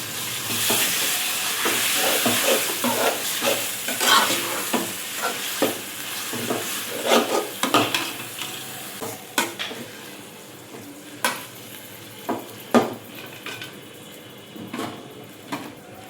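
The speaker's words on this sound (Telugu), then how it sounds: "శుభ్రంగా కడుక్కొని వడకట్టుకున్న కైమా అండి అలా వేసేసుకోవాలి. ఇప్పుడు మనం కలుపుకోవాలి." Washed, drained keema mince stirred in a frying pan, a spoon scraping and clinking against the metal in a steady rhythm over a continuous close sizzle, with no voices.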